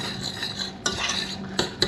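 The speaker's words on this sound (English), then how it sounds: "So now I just put in the oatmeal." A spoon stirring oatmeal into apples boiling in water with spices in a pot, soft scraping and swishing with a few sharper knocks against the pot, close and quiet.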